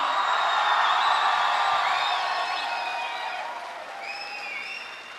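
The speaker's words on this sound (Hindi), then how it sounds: "अपनी भरपूर तालियों में अपने मेहमान का इस्तकबाल कीजिए, जनाब खलीलुर रहमान कमर साहब।" A university audience applauds to welcome guest Khalil Ur Rehman Qamar, a broad, dense wash of clapping that slowly fades, with high whistles or cheers rising above it.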